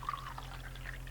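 Cocoa is poured into a mug, a short, soft trickle with gentle liquid gurgles over a low steady hum.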